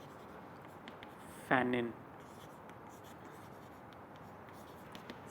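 One short scratchy stroke of chalk or marker on a lecture board, close and distinct against a quiet hall, with a voice speaking briefly around it.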